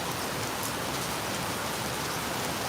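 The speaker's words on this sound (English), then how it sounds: "I know the rain is loud." Loud, steady rain pours down close by, a dense continuous hiss of drops on surfaces with no break and no voices.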